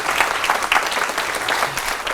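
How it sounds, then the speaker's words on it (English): An audience claps loudly and continuously, a dense burst of many hands with no voices standing out. "give us a demonstration of how loudly you can clap"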